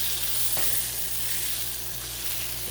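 Pork ribs sizzle steadily on a Blackstone griddle, a dense, continuous frying hiss close up with a faint scrape partway through and no talking.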